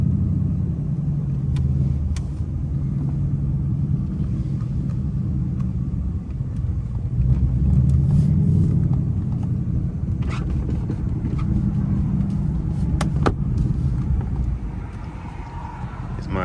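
A Ford Mustang's exhaust gives a steady, deep rumble from inside the car while driving in traffic, holding at a constant loud level throughout with no pauses.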